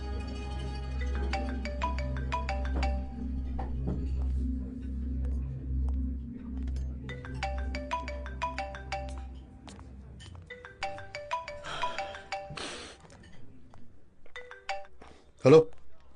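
A mobile phone ringtone plays in a Bollywood film scene, a repeating electronic melody in bursts over a low background hum, fading into quieter clicks and handling sounds near the end.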